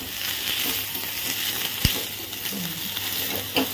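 Chicken stir-fried for chili chicken in a pan over full flame, sizzling steadily throughout with a sharp clack of the utensil near the middle and another toward the end; no talk.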